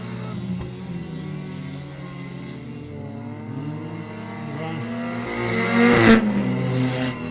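Race cars engines droning side by side on an oval racetrack during a late-race battle in the Old Milwaukee 30, a steady layered roar that swells slightly near the end.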